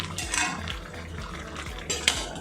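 Metal lid set back onto a cooking pot of ridge gourd simmering on a gas stove in a home kitchen, with two clear clanks of metal on metal over the low bubbling of the pot.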